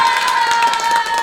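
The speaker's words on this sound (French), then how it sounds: "Il y a Mimi qui veut des applaudissements." A crowd claps and cheers in a burst of applause for someone named Mimi, steady and fairly loud throughout, with a few shouts mixed in.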